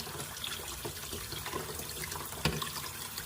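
Tap water runs and splashes softly as something is rinsed under it, a continuous gentle wash with a small clunk partway through.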